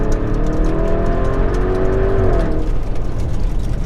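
A yellow Lamborghini accelerates hard on an airstrip, its loud engine note climbing steadily in pitch before dropping sharply as it shifts gear, then pulling on under a steady roar.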